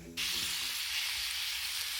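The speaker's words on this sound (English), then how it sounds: "Pheasant and sausages. And some veg boiling." Pheasant and sausages fry in a pan outdoors, giving a loud, steady, close sizzle that starts abruptly and continues without a break, with no talking over it.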